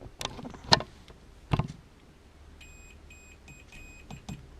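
A multimeter continuity tester gives a string of short, high electronic beeps, some broken up and repeated, amid a few clicks and knocks as probes touch the pins of a connector, close and quiet.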